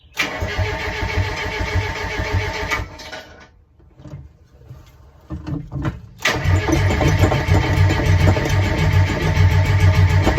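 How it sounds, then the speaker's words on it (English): An engine-swapped Mazda Miata with a JDM engine, unstarted for about eight months, is cranked and started: a loud starter whir, a brief pause with sputtering, then the engine catches and runs strongly and steadily, close by, with no talking. "So I was trying to start the car right there, as you could see"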